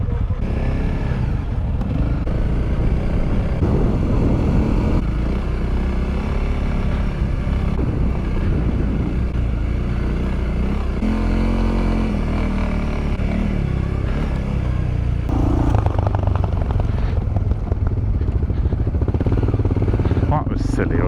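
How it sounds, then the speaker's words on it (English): Small Honda 300 motorcycles ridden at an adventure bike festival: a steady, loud engine drone mixed with wind buffeting runs continuously throughout, with no clear breaks. "headed off towards the last challenge of the weekend for us, which was to ride on some little Honda 300s."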